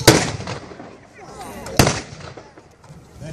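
Blank gunfire at a WW2 battle reenactment at Dover Castle: two sharp outdoor reports about two seconds apart, each trailing into open-air echo, with faint crowd and voice sounds between them.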